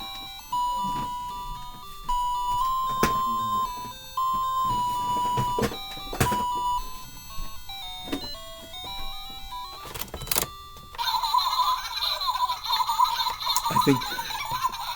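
A small Fisher-Price Little People electronic toy plays tinny, beeping tunes in bright repeated notes, followed by a burst of giggly laughter sounds toward the end.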